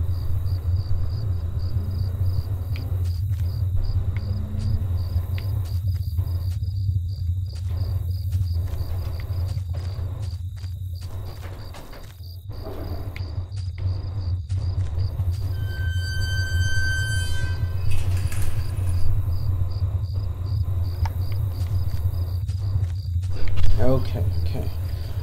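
Crickets chirp steadily outside in a horror video game, a thin high trill running under a low rumbling ambience, with some sparse talk over it.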